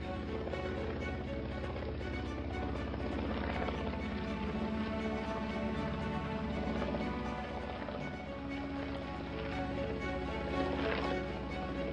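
Small aircraft flying over the Hron river valley near Banská Bystrica in Slovakia, a steady dense engine and rotor drone that holds evenly for the whole stretch with no talk.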